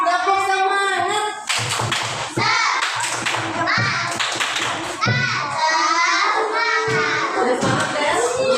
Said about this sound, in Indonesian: Beri tepuk semangat dulu untuk Adel.